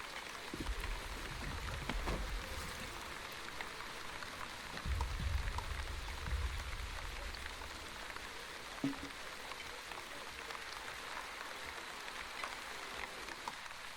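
Steady rainfall in The Wandering Village, a soft continuous patter and hiss spread evenly through the scene with a faint low rumble underneath, nobody speaking over it.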